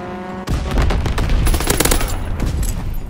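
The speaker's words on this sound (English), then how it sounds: "Fighter pilot inbound, strafing the target." Loud, sustained bursts of automatic gunfire from a fighter plane strafing in the World War II shooter game Call of Duty WW2, rapid shots layered with explosive impacts over about three seconds, no talk.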